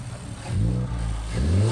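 A Honda Civic Type R engine running a K tuner revs twice through its intake, rising in pitch each time with a throaty mid-range drone close by.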